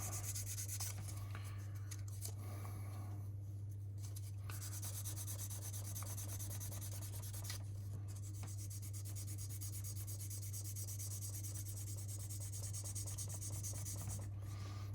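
Steady, soft hand sanding with a soft pad rubs continuously against a surface with a low background hum, with no talking.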